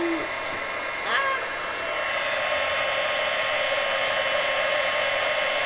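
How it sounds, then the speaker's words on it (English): A heat gun blowing hot air during a crafting job, a steady loud whooshing hiss held throughout, close up, with a brief faint tonal chirp near the start. "Keep moving the heat gun."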